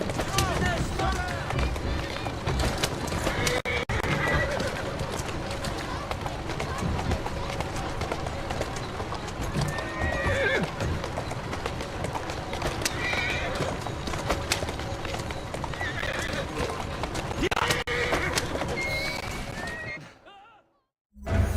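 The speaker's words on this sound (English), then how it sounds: "Who's a good horse? You are." A horse in the Assassin's Creed Syndicate video game neighs and whinnies while its hooves clip-clop steadily at a run, close and loud, with a crowd murmuring and voices talking in the mix until an abrupt cutoff near the end.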